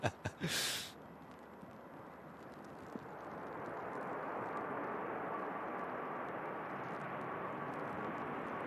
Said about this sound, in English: Ryanair just landing in from Rome. This is a Max 8200, just 1 year old.